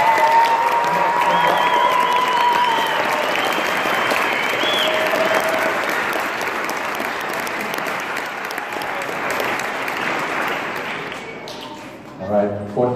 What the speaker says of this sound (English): Can we please have one more round of applause for all of our very brave soloists?